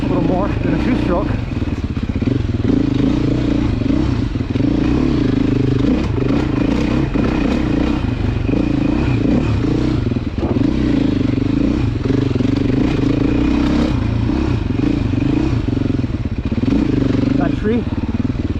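A Beta dirt bike ridden off-road through tight trees, its engine droning steadily and close with clatter from the chassis and shifting throttle and clutch, continuous for the whole stretch while a rider's voice comes through at times.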